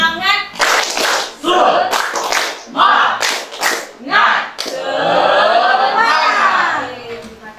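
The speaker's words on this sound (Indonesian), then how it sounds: "Tepuk semangat." A classroom group performs rhythmic spirit clapping, quick bursts of claps in patterned sets mixed with children's chanting voices, ending in a long run of applause.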